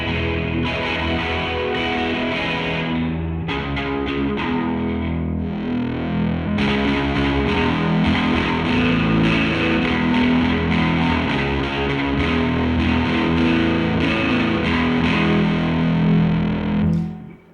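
An electric guitar runs through an OBNE Beam Splitter pedal with stereo outputs, giving a dense, wide, distorted and modulated wash of sustained chords that plays loud and continuous, with a brief dip near the start.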